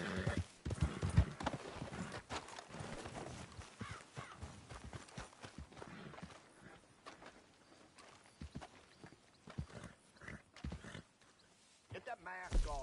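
Horse hooves clip-clop at a walking pace in the open-world Western game Red Dead Redemption 2, an uneven run of steady thuds with occasional whinnying, heard under a man's conversation that carries through most of the stretch.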